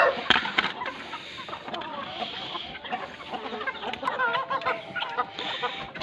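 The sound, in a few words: chickens clucking in a coop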